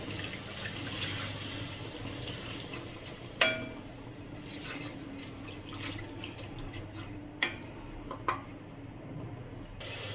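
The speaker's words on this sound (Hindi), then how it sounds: "और इसमें डाल दें पानी थोड़ा।" Water runs into a pan while brinjal curry is cooked, a low steady trickle with a few clinks of metal or glass, heard alone without voices.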